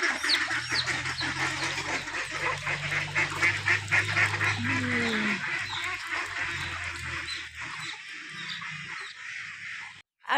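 Domestic ducks and chickens released into a rural Assam yard give repeated nasal honking quacks and squawks close by, overlapping calls that carry on steadily before fading near the end.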